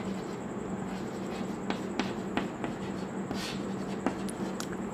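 A pen scratches and taps across paper while working out a maths relation problem, with faint irregular strokes over a steady low hum and room noise.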